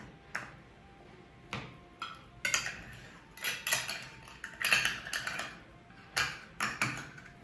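Metal lids clink and scrape against glass jars of medlar compote as they are screwed shut by hand, a series of short, sharp, close ticks and taps spread unevenly, with no voices.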